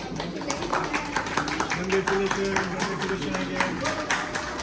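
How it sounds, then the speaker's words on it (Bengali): Guests at a graduation party clap in a quick, uneven patter while people talk and call out over the applause in a lively indoor room. "সবাই হাততালি"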